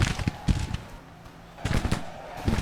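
Musket volleys and cannon fire crackle and boom in a Civil War battle in Grand Tactician, with bursts of rapid rattling shots, a brief lull, then another dense volley.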